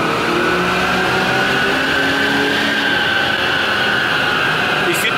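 A supercharged BMW engine pulls steadily under load in fifth gear at about 2500 rpm, a continuous droning hum with a sustained whine that holds evenly throughout, heard from inside the car with no talking.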